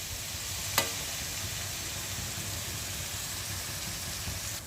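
Egg masala curry with ginger, garlic and chili powder sizzling in a pan, a steady frying hiss throughout with one sharp clink of a utensil early on.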